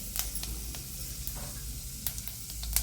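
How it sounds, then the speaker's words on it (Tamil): Mustard seeds and lentils tempering in hot oil, a soft steady sizzle with scattered sharp pops and crackles, close by, no talking. "எண்ணெய் காஞ்சிருக்கு தாளிப்பு கடுகு பருப்பு போட்டு தாளிச்சிட்டு"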